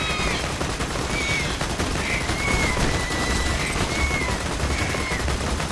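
Rapid bursts of gunfire from the video game Borderlands 2, a dense steady fusillade of overlapping shots running throughout, loud and continuous with no clear pauses.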